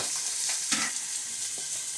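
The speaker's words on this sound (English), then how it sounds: "we're going to start frying the onion up until that is softened" Diced onion frying in pork pan juices and bacon grease, giving a steady close hiss and sizzle with a brief louder crackle as it is stirred, and no talking.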